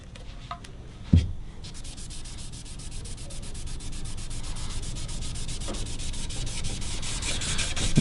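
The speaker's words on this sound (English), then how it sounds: "The trick to this is to go back and scrape the binding clean once you're done putting that first coat on" A blade scrapes finish off guitar binding in steady, fine repeated strokes, quiet and close, with one sharp knock near the start and no voices.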